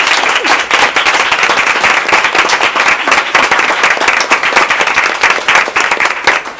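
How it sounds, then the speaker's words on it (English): An elementary school audience applauds its staff and administrators with loud, dense, sustained clapping that carries evenly across the whole stretch. "let's give them a round of applause"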